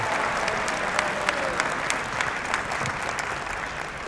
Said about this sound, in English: that's probably the last time you'll clap for me